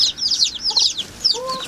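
A hen clucks softly near her tiny newly hatched bantam chicks, with high peeping chick calls filling most of the moment and a couple of low clucks in the middle and end.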